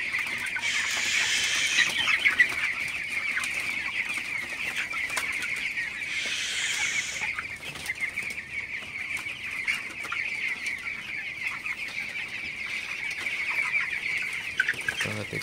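Broiler chickens cluck and call in a raised-floor poultry shed, a steady crowded chorus of many birds with louder bursts of squawking now and then, heard without talk.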